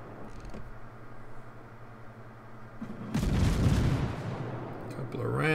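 Naval guns firing in the World of Warships game, with an Italian tier-4 cruiser in play: a heavy broadband boom at about three seconds swells into a loud rumbling roar, then another burst near the end over a steady engine hum.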